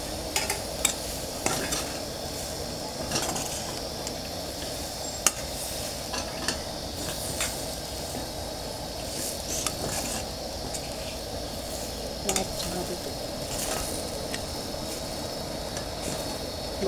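A potato bhaji with fresh grated coconut and chopped coriander sautés in a pan, giving a steady close sizzle and rustle with scattered clicks of the spoon stirring throughout.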